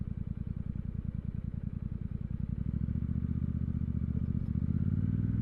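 A Royal Enfield Super Meteor 650 motorcycle ridden slowly with the clutch feathered, its engine giving a close, steady, rhythmic low thrum that smooths and deepens slightly toward the end.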